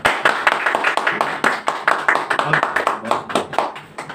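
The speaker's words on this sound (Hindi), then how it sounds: "मैं चाहता हूँ एक बार जोरदार तालियां।" Loud audience applause at a monthly Hindi poetry gathering, sharp rhythmic clapping from a fairly small crowd, close and continuous with strong individual claps throughout.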